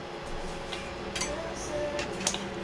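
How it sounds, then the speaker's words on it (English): Meatball mixture with grated Parmesan cheese stirred in a pan, giving close metallic scraping and clinking of a utensil against the pan over a steady background hiss. "we're gonna add some grated Parmesan cheese. We're gonna give it a stir."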